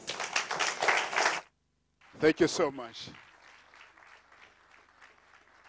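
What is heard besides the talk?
audience applause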